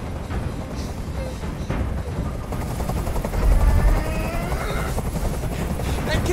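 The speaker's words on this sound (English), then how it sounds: "can't stand that noise anymore! Tell that helicopter to get out of here!" A helicopter thrums in Detroit: Become Human, its rotor chop mixed with bursts of gunfire-like rattles and rumbling, loud and continuous behind the scene.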